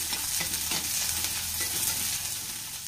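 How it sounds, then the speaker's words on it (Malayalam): Chopped shallots and green chillies sautéing in a pan for a Kerala-style beans and carrot thoran, a steady close hissing sizzle with soft stirring scrapes and no talking. "നമുക്ക് നല്ലപോലെ ഇതൊന്ന് വഴറ്റിയെടുക്കാം."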